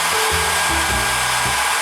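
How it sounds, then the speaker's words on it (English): A hair dryer blows steadily on a latex mask patch, a loud continuous close-up whoosh with a low motor hum that shifts slightly in pitch, no voices. "Now I'm gonna hit it with a blow dryer"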